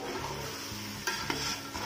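Mutton pulao with green chillies and yogurt is stirred in a sizzling pot: soft scraping and a gentle fry hiss, with two sharp clinks of the spoon against the metal, close and fairly quiet.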